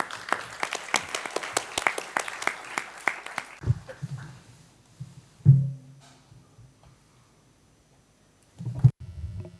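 An audience at a truth commission gathering claps in a fairly faint round of applause for about three and a half seconds. It then drops to near silence, broken only by a few soft low thumps.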